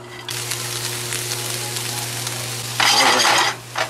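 Ground turkey browning in a pan, frying steadily with a sizzling hiss while being stirred, with a louder burst of scraping and sizzle near the end over a low steady hum.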